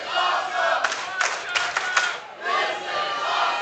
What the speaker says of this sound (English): Crowd here at Empire Control Room, letting you, the fans, know what they think of this contest.